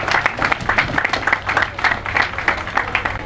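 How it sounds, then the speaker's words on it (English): A crowd at an agricultural open day opening ceremony on Nevis claps in a continuous, fairly loud round of applause, individual claps blurring into a steady patter. "Let us give her a round of applause"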